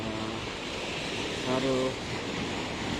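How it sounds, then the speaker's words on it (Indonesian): Ocean surf pounds a beachside coastal road in Cilellan village, where the concrete wave barrier has been broken. A steady, loud roar of waves comes with heavy wind buffeting the microphone, and someone speaks briefly over it. "Ini sudah mulai terkikis oleh ombak ya teman"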